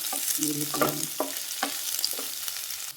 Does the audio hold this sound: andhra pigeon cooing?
no